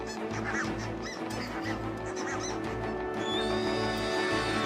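Geese honking in the Arctic tundra, a busy overlapping chorus of calls over a steady low rumble, with a brighter, sustained call rising near the end.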